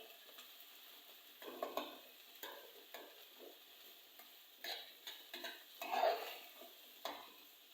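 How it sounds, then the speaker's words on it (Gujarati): Crumbled bajra rotla sautéing in a pan, with quiet intermittent bursts of sizzle and scraping as it is stirred, separated by short near-silent gaps. "સરસ સાંતળી નાખવાનું છે"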